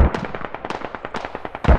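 Rockets fire in rapid succession in the military shooter Squad, a quick rattling string of sharp cracks and pops with a heavier boom at the end, close and loud.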